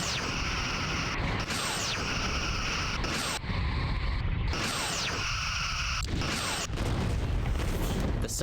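A starship blowing up in Star Trek Bridge Commander, a heavy booming blast amid continuous mechanical rumbling and weapon sweeps, with repeated rushing bursts and dense space-battle noise throughout.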